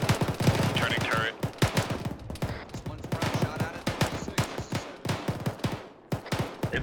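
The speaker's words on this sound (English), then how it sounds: "It's firing the main gun" Repeated sharp gunshot bursts from a military video game, a loud, rhythmic series of cracks through the whole stretch, mixed with occasional voices over radio-like chatter.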